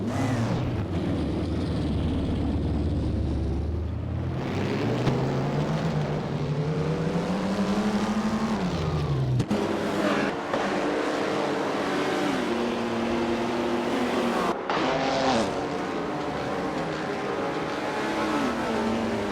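Race car engines in an AI-driven racing game, including a 1938 Mercedes-Benz W154, roar loudly and continuously, with pitch rising and falling through gear changes as cars battle closely for position.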